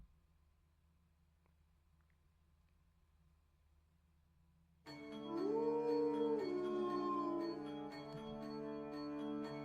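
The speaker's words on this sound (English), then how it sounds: "The howling echoes through the night." In the visual novel Tsukihime, dogs howl at night: after a few seconds of near silence, a sustained, wavering howl rises and holds, layered with a steady tonal backing, fairly loud.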